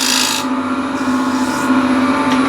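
A wood lathe spins at 1600 RPM, giving a steady, loud hum with a continuous rasping scrape of a tool on the turning wood that swells and eases slightly.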